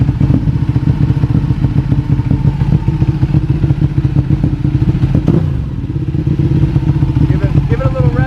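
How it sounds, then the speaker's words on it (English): Ducati Panigale motorcycle with a carbon build and a new lightweight chain and sprockets, idling loudly in neutral nearby with a steady rumble and one brief rev partway through. "Give it a little rev"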